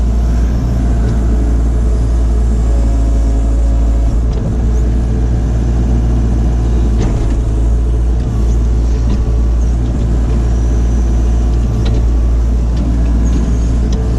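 A digger engine running loud and close during ditch clearing in a field, a constant heavy low rumble with faint mechanical clanks on top, steady throughout with no talk.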